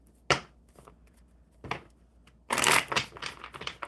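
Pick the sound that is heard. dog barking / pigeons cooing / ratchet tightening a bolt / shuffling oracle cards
shuffling oracle cards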